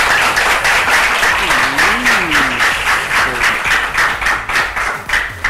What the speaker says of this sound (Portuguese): Palmas aí, galera.